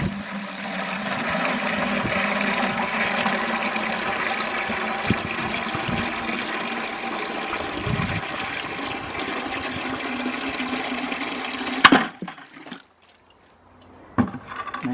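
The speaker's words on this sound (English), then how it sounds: "grab some water, and we'll pour it and see how long it goes before it breaks" Water poured steadily into a bucket hung from a 3D-printed PLA filament test piece, a loud continuous rushing fill lasting about twelve seconds, then a sudden stop, near silence and a few clunks.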